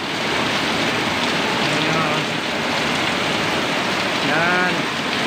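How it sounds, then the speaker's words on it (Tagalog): Heavy rain falling during a tricycle driver's workday, a dense, steady hiss of downpour that fills the whole clip, with a faint passing engine and a brief tonal sound near the end. "Lakas ng ulan."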